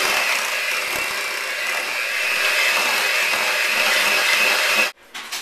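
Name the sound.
electric mixer mixing chives into mashed potatoes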